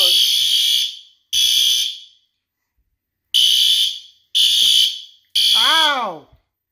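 D273 fire alarm sounding during a mini alarm system test, loud piercing electronic tone in repeated bursts with gaps between, ending with a short warbling sweep.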